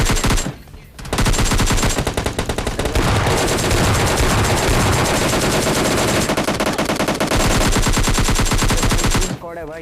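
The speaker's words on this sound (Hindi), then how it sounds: "गनशॉट की आवाज वहीं से आ रही थी" Loud, dense machine gun fire and gunshots from the battle royale game PUBG Lite, sustained bursts running almost nonstop for about nine seconds after a short quiet opening.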